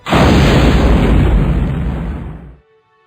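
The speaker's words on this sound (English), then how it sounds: "The cannon was fired at sunrise and sunset during reunion week." A cannon fires at an old soldiers reunion: one huge, close blast with a long rumbling decay that lasts over two seconds before cutting off abruptly.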